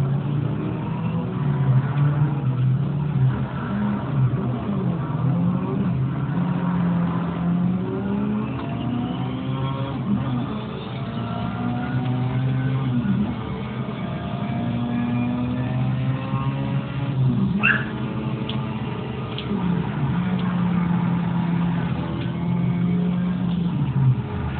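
Several race cars roar in Need for Speed Shift, engines droning and shifting pitch continuously as they accelerate and jostle, loud and steady throughout with a brief sharp impact near the end.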